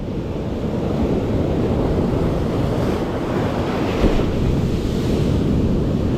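Sea waves wash onto the Karasu shore along the Black Sea coast, a steady broad roar of surf mixed with wind buffeting the microphone, continuous and fairly loud with no voices.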